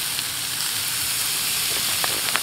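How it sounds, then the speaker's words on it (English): Shredded steak hits a pan with onions for a bunless Philly cheese steak, giving a steady, close frying sizzle throughout with a few faint spatula clicks near the end and no talking. "I think it's time to throw the steak in there now"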